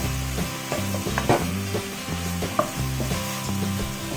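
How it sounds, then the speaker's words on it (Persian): Tomato with garlic and turmeric sizzles in a pot while a spoon stirs it, giving a steady frying hiss broken by repeated scraping strokes at close range, with no talking. "گوجه رو الان توی سیر یکم تفت میدیم و بعد همه رو با هم مخلوط میکنیم"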